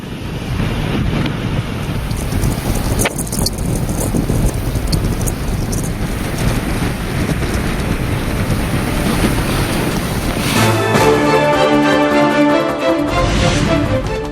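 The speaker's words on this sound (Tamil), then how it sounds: "தனுஷ்கோடியில் பலத்த சூறைக்காற்றுடன் கடல் சீற்றம்." Strong gale winds roar against the microphone while rough sea waves crash along the shore at Dhanushkodi, loud and continuous, with heavier surf surging near the end.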